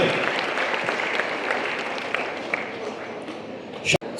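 An audience applauds steadily, a dense rush of clapping that tapers slightly, ending with a brief sharp clink.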